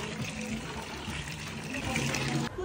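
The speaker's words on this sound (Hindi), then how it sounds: "भाई कितनी बाल्टी भरवाओगे मुझसे, मैंने 6 बाल्टी भर दी।" Water gushes steadily from a hand pump into buckets in a village, a continuous splashing fill that stays loud and close throughout.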